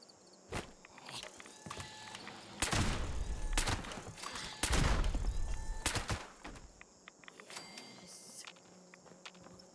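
Energy-weapon fire in the video game Fallout 76, heard as several loud, sharp bursts and crackling volleys scattered across the clip, with quieter game ambience and movement sounds in between.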